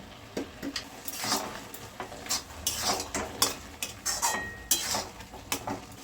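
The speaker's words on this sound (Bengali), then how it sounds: "পাউডার দুধ দিয়ে দিচ্ছি। দিয়ে ভালো করে আমি এখন মিশিয়ে নেব।" Powdered milk being stirred into carrot halwa in a pan, a steady run of spoon scrapes and clinks against metal with a soft sizzle underneath, close and moderately loud.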